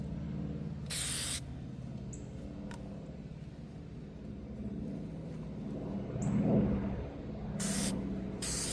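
Meguiars headlight coating sprays from an aerosol can in two short bursts of hiss near the car headlight, with quiet background between them.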